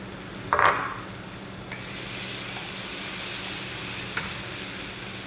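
Green chillies and garlic sizzle and fry steadily in a pan, with a brief clatter near the start as ingredients are added.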